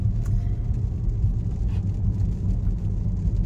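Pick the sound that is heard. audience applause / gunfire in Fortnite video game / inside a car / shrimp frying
inside a car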